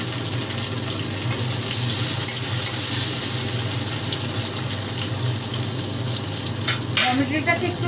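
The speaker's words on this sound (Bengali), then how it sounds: "টমেটোটাকে একটু ভেজে নেব," Dried tomato fries in a pan, giving a continuous hissing sizzle at moderate level, with a few light clinks and scrapes near the end.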